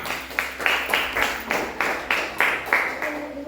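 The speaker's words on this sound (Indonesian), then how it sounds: "Tepuk tangan." Classroom applause for a student group, heard as about eight evenly spaced bursts of clapping from a small group, fairly close and loud, with no talk over it.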